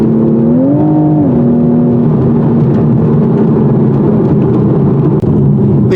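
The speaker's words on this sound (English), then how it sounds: "this is the sweetest engine I've driven in decades" Steady engine drone from a 2020 Toyota Supra while driving, loud and continuous with a brief rising pitch sweep early on, alone without talk.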